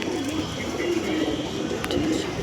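Pigeons cooing at a home pigeon sale, soft low repeated coos close by amid general background chatter and rustling.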